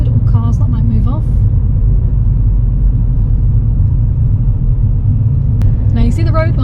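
A car engine hums as a learner drives slowly at about 20 mph during a driving lesson, a low steady rumble heard from inside the cabin with people talking briefly at the start and end.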